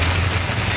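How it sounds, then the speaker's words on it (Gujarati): Heavy monsoon rain pours down in Gondal, a dense, unbroken roar of water hitting surfaces close by. "તમે જોઈ શકો છો અત્યારે ગોંડલમાં વરસાદ ફૂલ પડે છે"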